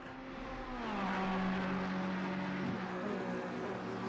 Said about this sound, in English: Hearing that Ferrari engine hum right now.